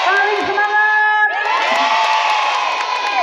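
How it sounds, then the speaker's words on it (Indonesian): A crowd of madrasah high school students cheers and shouts together at a motivational school event, a loud sustained chorus of young voices with whoops rising and falling, close and energetic. "Tepuk tangan sambil teriak, yeay!"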